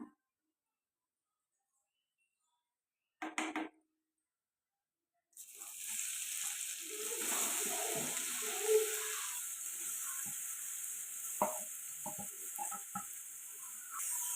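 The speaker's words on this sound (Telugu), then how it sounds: "ఇప్పుడు క్యారెట్ వేసుకొని ఫ్రై చేసుకుందాం" Carrots frying in ghee in a pan for carrot halwa, a steady sizzle that starts partway through after a brief clatter and continues with scattered stirring scrapes.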